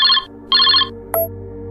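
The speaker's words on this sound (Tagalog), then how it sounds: "Agad naman dinampot ni Rocky ang cellphone at saka sinagot ang tawag" A mobile phone ringtone sounds for an incoming call: two loud, close electronic ringing bursts with a short gap between them, then a brief high tone, with no talking.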